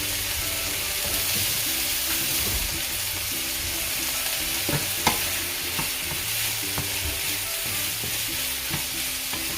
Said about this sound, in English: And let's add the prawns.